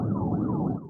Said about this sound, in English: when Dessous blared his sirens on a dark rural road, signaling Washington to pull over for speed